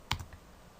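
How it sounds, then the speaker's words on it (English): A single computer keyboard key, the Enter key, is pressed once, giving a short, faint click with a tiny follow-up tap in a quiet room. "hit enter on your keyboard"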